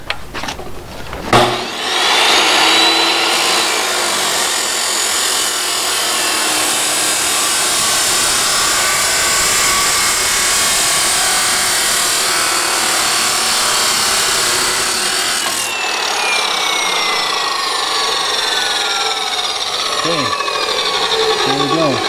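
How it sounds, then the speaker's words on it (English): Power saw making a 45-degree cut in wood for a live edge bench, a loud whining motor and sustained cutting hiss lasting many seconds, then spinning down at the end. "So I set this up at 45, and now we're ready to cut."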